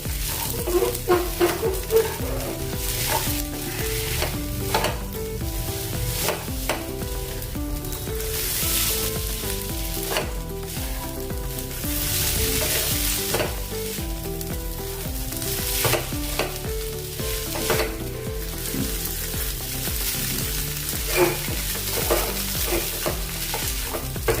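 A spoon stirs sizzling chivda curry with garam masala and amchur powder mixed into the hot pan, giving steady frying hiss and repeated scraping and clinking close by, with no voices.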